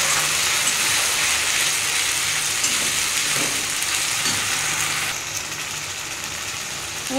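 Onion fried with ginger, garlic and a small tomato sizzles in a pan for a mutton curry, a steady hissing fry with a low background hum, loud and continuous with brief stirring scrapes and no talk.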